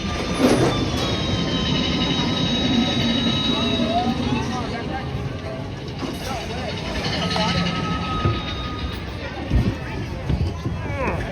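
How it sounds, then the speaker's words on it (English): A Disneyland steam train locomotive rolls along its rails, making a continuous rumbling, clattering run with faint wheel squeals, while crowd chatter and talk carry on under it in the busy park. "This is the I Am Fearless locomotive."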